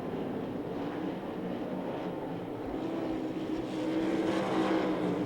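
Sprint cars race on the Knoxville Nationals dirt track, a distant, continuous roaring drone of engines that swells slightly louder toward the end, with no talk.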